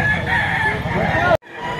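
A young stag rooster crows loudly and close by, one long drawn-out call that cuts off abruptly, followed by a faint background murmur.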